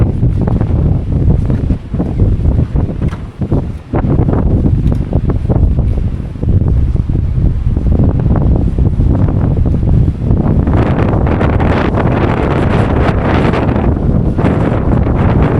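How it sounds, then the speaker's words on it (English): Strong wind roars steadily and loudly across the microphone on Southend Pier by the sea, buffeting it with gusts, with a rushing, surf-like wash of waves beneath throughout. "you can tell it's windy on this side because the waves are going there"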